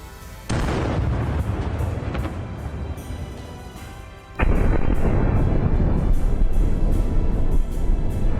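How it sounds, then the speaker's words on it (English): A T-80 tank hit by a drone explodes in a massive blast, opening with a sharp boom and sustained roar, then a second, louder detonation midway that rumbles on heavily to the end, with no voices. "From the massive explosion,"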